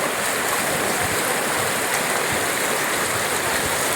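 Floodwater from overnight rain pours into a house with a constant, loud, close rushing wash that never lets up, with no talk over it.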